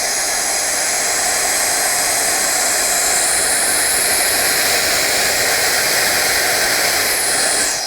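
Roedix R9 electric air duster running at 150,000 RPM, a loud steady high-pitched whine and rushing air hiss, close and continuous without voices.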